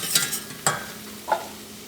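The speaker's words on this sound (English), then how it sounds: "make sure you are mixing that flour and butter combination" A flour and butter roux for a croque monsieur sizzles softly in a pan while a utensil scrapes through it in three short, distinct strokes, close and fairly quiet.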